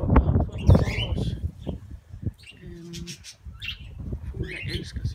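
Budgerigars in an outdoor aviary flock of about 55 to 60 birds chirp in scattered, fairly faint high twitters. Some low rustling and a voice can be heard early on.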